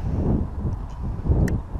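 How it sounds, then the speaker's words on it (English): Gusty outdoor wind buffets the microphone in a low, steady rumble that swells and eases over a couple of seconds, with a faint brief high chirp near the end and no talking. "Got a little bit of wind picking up now, which is not great."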